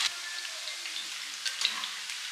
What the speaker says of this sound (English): Next, fry them on medium heat until they are nice and crispy